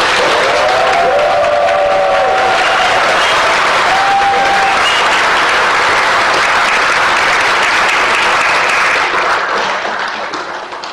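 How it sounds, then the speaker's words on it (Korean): Sustained applause from an audience at a citizens' group annual general meeting, a dense, loud wash of clapping lasting throughout and tapering slightly at the end, with a brief faint voice or whistle-like tone early on. "박수 한번 보내주세요."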